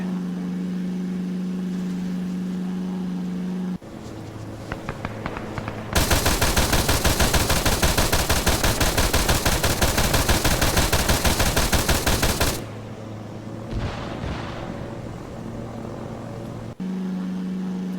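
Aircraft strafing run in the video game Arma 3: a long, dense burst of rapid machine-gun fire lasting several seconds, loud and continuous, framed by droning engine noise before and after.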